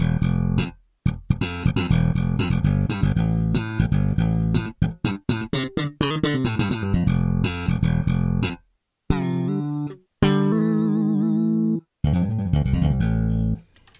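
Deep sampled Fender Jazz Bass notes from a Kontakt library, played in quick runs and phrases, then a few separated sustained tones with short silences between, loud and alone.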